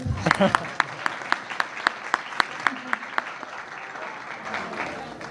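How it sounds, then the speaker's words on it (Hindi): Audience at a Pakistani poetry recital clapping in sharp, spaced claps that settle into a lighter patter, with a voice at the start under the clapping. "ताली बजाने को जी चाहता है तो बजा ले।"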